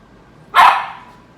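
A dog gives one loud, close bark that trails off quickly in a quiet room.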